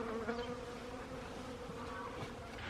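Honey bees buzzing at an apiary on a mild winter day, a faint, steady droning hum with a few louder passes close by.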